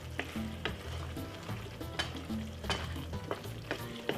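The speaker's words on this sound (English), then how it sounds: "Still a nice lovely stir fried veg." Vegetables stir-frying in a pan for Jamaican pepper steak: a steady sizzle broken by repeated sharp clatters of the utensil scraping and tossing the pan, close and fairly loud, with no voices.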